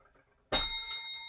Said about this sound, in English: Spoiler bell. Spoiler bell.